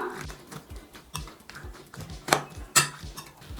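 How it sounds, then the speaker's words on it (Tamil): Metal spoon scraping and clinking against a steel bowl while bhel puri ingredients are mixed together, a series of quick irregular strokes with a few sharper clanks, close and moderately loud with no talking. "இது எல்லாத்தையும் ஃபர்ஸ்ட் நம்ம நல்லா கலந்து விட்டுக்கலாம்"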